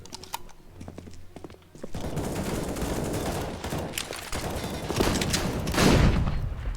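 Shotgun fire in CS:GO on the Overpass map, sporadic clicks and shots giving way to a dense barrage of blasts and rattling gunfire that swells louder toward the end.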